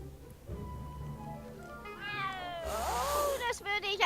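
A cat in a video game lets out one drawn-out, wavering meow, loud and close, with a person talking before it.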